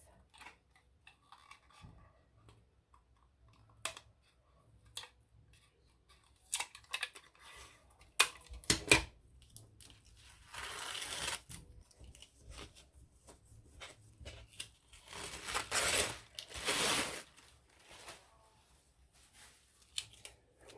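Layers of a large paper napkin are peeled apart with tape, giving quiet, scattered crinkles, ticks and sticky tearing rustles, with a couple of louder, longer ripping bursts near the middle and end.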